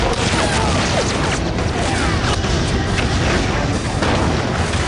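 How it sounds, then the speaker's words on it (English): Artillery shells land together on a German position in World War II combat, a dense continuous roar of heavy blasts and crashing debris sustained at high volume throughout, with no clear gaps between impacts. "The result, all the shells land at precisely the same time."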